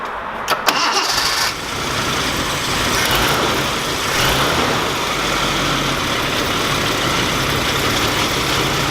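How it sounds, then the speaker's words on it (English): A Toyota Crown engine cranks and catches near the start, then settles into a loud, steady idle with a slightly uneven, rough beat that continues alone to the end. "it's running a little bit rough, as you can see the engine shaking"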